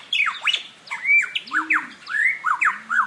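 A forest songbird able to imitate almost anything pours out a loud, close stream of varied whistles, squawks and swooping chirps in quick succession, with no other sounds around it.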